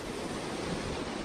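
A strong, cold wind on a hillside trail near Kobe, Japan, a dense and steady roar of broadband rushing that buffets the microphone at close range, with no speech.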